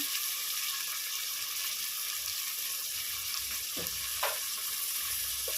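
Prawn biryani masala sautéing in a pan, a steady soft sizzle with faint stirring scrapes, close and fairly quiet, with no talk.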